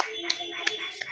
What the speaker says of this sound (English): a round of applause to our third group